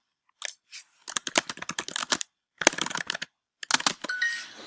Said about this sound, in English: then I type in what it means